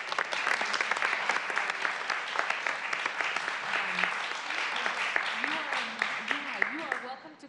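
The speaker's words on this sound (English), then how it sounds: "Huge round of applause for your participation." A round of applause at a city council committee meeting, sustained crisp clapping from a room of people for several seconds, with voices talking and calling out faintly underneath.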